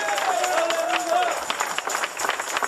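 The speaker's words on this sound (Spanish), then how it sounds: "Dale el aplauso al Rey de Gloria." Church congregation clapping for the King of Glory, a dense steady patter of many hands with crowd voices and a sustained sung or called tone over it.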